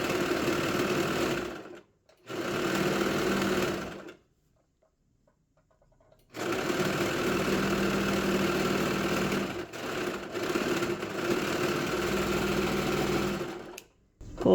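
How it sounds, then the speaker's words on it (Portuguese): A sewing machine stitches the sleeve cuff of a knitted dog sweater, running in steady close bursts with a short stop near the start and a longer pause in the middle before it resumes. "E vou costurando."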